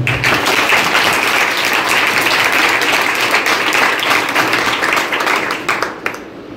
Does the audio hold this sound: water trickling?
no